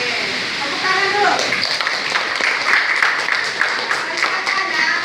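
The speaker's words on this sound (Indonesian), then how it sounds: "Oke, tepuk tangan dulu." Pupils in a classroom clap together, a busy patter of hands that builds after a brief moment of speech at the start and continues steadily, fairly close.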